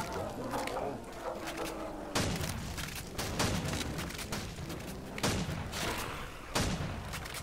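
Shotgun blasts in a Call of Duty World at War zombies custom castle map, several heavy booming shots spaced a second or more apart over a steady game rumble.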